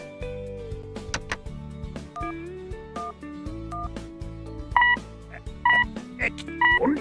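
A telephone call being dialed that fails to connect: a busy mix of short electronic beeps and tones in irregular bursts, with music-like tonal layers running underneath and no clear speech.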